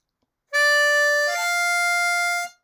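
Blues harmonica draw notes on holes 4 and 5, one sustained tone that shifts to the next hole partway through, loud and close and played alone for about two seconds.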